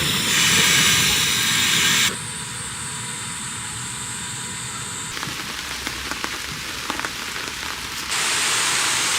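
Rain falls steadily in a forest campsite under large old trees, a dense continuous hiss that shifts in tone and loudness between sections, with faint scattered drops and no talk.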